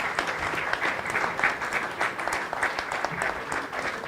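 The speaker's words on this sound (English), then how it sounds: "I request the audience to give everyone a big round of applause." An audience at a felicitation function applauds guests on stage with sustained, dense clapping from many people, fairly close and even throughout.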